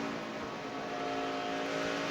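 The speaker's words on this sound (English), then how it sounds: "There goes his engine laying down, Phil." A steady, loud NASCAR truck engine drone with a sustained high whine at Bristol, continuous for the whole moment, like a racing vehicle running at speed nearby.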